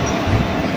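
A train runs on the rails on arrival at Purulia. It makes a loud, close, continuous rumble with a faint metallic squeal above it, and nobody speaks.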